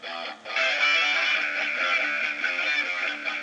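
A low, thick synth-like bass line plays a steady repeating pattern through an octaver effect, doubled with a deeper octave beneath it, loud and alone.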